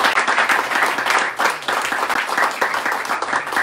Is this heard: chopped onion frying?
no